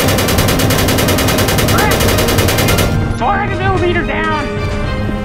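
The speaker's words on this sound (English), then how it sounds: "I'm trying to open fire, but I'm not in range." Sci-fi weapons fire in Space Engineers, a loud continuous rapid stream of shots for about three seconds, then a dense noisy mix of blasts with voices talking over it.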